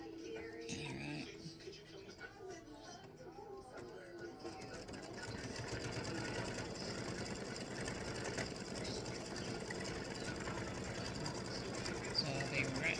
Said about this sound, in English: color number 7 is going to stitch the green right here and underneath the stem